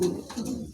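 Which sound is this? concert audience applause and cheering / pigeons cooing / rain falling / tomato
pigeons cooing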